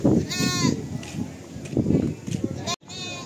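Goats bleat with wavering, nasal cries over a steady murmur of people talking nearby, the calls recurring several times.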